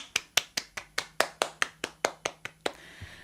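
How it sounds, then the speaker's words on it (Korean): A few people in a small audience clap in a slow, sparse rhythm to welcome an artist onto the stage, about a dozen distinct claps close by, stopping abruptly. "박수로 맞아주세요."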